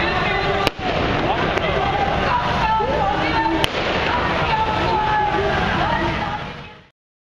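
Fireworks set off by young scooter gangsters blocking a road with their motorbikes, heard as a dense, continuous crackle and rumble with a couple of sharp bangs, loud and close, with voices mixed into the din.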